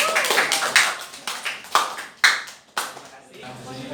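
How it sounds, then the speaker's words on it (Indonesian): A small university class claps for a student group after a presentation in a nonlinear systems dynamics course, a few loud, uneven bursts of nearby hand claps, fading near the end. "Ya kita beri tepuk tangan kelompok."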